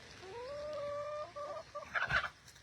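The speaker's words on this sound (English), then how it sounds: "I've got all my little chicken buddies." Chickens cluck and murmur close by at ground level, with a drawn-out rising call followed by softer clucks and a brief scratchy rustle.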